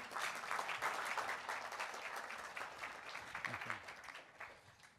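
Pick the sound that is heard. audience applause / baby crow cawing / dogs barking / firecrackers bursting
audience applause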